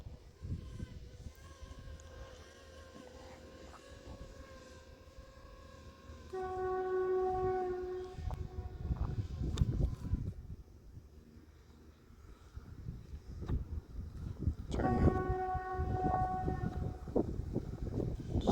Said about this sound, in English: Sounds like somebody's honking their horn.